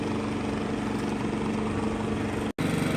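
A Genmax 7500 iAED dual-fuel inverter generator runs steadily, heard from directly behind at the muffler side, a loud, even engine drone with a low harmonic hum and a brief dropout, with no talk.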